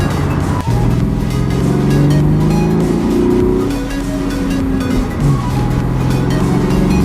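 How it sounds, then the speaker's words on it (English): A car engine rumbles from outside, its exhaust note rising and falling as it revs, with a steady loud drone throughout. "to get an idea of what the car sounds like from the outside instead of just the inside."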